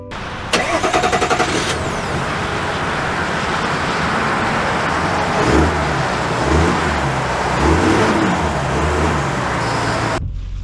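A 2023 Ram 1500 EcoDiesel pickup with four-wheel drive in auto mode pulling away under power, a steady close engine drone with diesel rumble and rising pulses midway, then cutting off abruptly.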